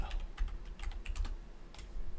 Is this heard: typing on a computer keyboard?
yes